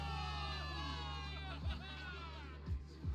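A game crowd of soldiers cheers for victory in Zenless Zone Zero, a dense roar of voices with whoops and shouts rising and falling for a few seconds, while several low sweeping thuds punch through near the end.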